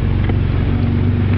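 A 1994 Ford Ranger XLT SuperCab truck with a suspected exhaust manifold gasket leak runs loud and steady, a low throbbing exhaust drone with ticking pulses, recorded close with no voices.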